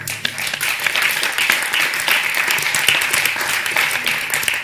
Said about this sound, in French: il va falloir applaudir beaucoup plus fort si vous voulez qu'elle entende